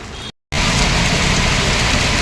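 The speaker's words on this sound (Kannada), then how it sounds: "ಫುಲ್ ಮಳೆ" Heavy rain pours down in a dense, steady roar, loud and close, broken only by a brief silent cut near the start.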